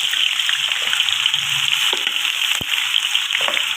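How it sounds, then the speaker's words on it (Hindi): Onions hit hot oil with whole spices such as cumin, cloves and cardamom for a chicken and chickpea pulao, giving a loud, dense frying hiss that stays steady with a few small pops. "तेल हमारा अच्छा गर्म हो चुका तो प्याज भी हमने साथ ही डाल देंगे"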